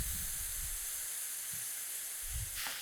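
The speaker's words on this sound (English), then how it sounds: "while our meat's browning, we're just going to take a spatula" Ground meat browns in a hot pan with a steady, bright sizzle and hiss, broken by a few low scraping knocks from a spatula.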